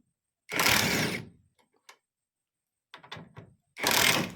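A TEH LID230 cordless impact screwdriver in auto-stop mode whirs loudly in two close bursts. Between them come brief clicks and a short series of rattling taps from the tool stopping and restarting.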